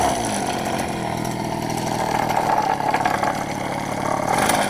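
A mini engine fitted with a centrifugal clutch runs steadily up close, a loud buzzing mid-pitched drone that holds even throughout with slight fluctuations in speed.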